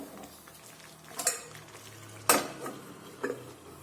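Red chilli chutney cooking covered in a pan over a slow gas flame, with a low steady simmer broken by a few sharp clinks and scraping knocks of a utensil against the pot.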